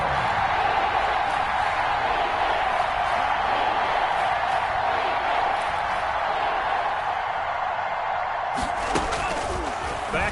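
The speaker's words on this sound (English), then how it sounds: "the crowd getting into it as we come up on a big" A football stadium crowd builds into a steady, loud roar ahead of a big third down, filling the whole stretch with dense noise and a sharp clatter near the end.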